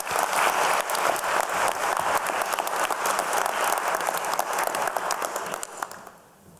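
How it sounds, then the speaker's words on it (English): Warm, sustained applause from an evening valedictory ceremony audience as a graduate walks to the lectern, dense and steady clapping that fades out near the end. "Please join me in giving Sophie a very warm round of applause as she approaches the lectern"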